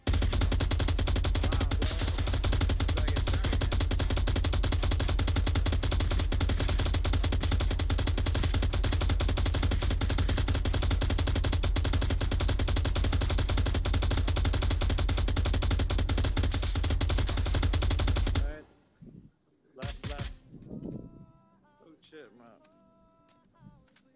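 Long, continuous automatic gunfire rattles without pause from the VR shooter Onward, loud and dense for most of the stretch, then cuts off abruptly and gives way to a few scattered thumps and quieter game sounds.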